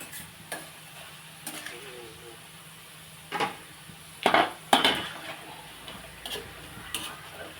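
Pakoda fritters fry in hot oil, a soft steady sizzle broken by sharp clicks and scrapes of a utensil against the pan, with talking in between.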